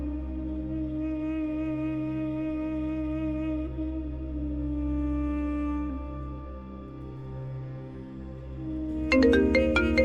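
A phone ringtone chimes in suddenly near the end, a bright burst of electronic tones over a steady background of music.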